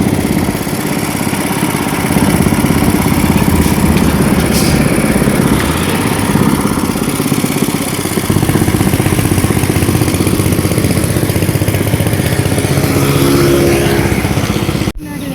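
A small motorcycle engine runs steadily near the mic, a continuous mid-pitched idle with some clatter and no gaps over the whole stretch, beside a home kitchen where the motorcycle has a punctured tyre.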